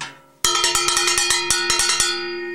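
A bright cowbell struck in a steady, syncopated Cuban conga comparsa pattern, loud and close, each hit ringing briefly over a low bombo drum and clave accompaniment.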